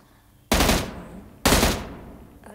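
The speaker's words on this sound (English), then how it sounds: "I shot him once." Two loud gunshots from the video game PUBG, evenly spaced about a second apart, each a sharp close blast with a long fading tail, then a faint click at the end.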